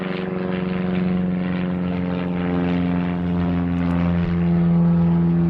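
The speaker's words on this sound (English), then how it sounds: "Why is it whenever I do this, a ruddy plane goes overhead?" A propeller plane passes overhead near an airfield in the countryside south of Selby, a steady droning engine hum with a throbbing pulse, loud and unbroken, swelling slightly toward the end.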